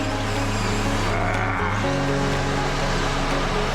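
Steady, loud mechanical whirring from the drivetrain of a Kia Sorento 4x4 as a wheel spins freely during a differential test, with a continuous droning hum that dips slightly midway and no talking.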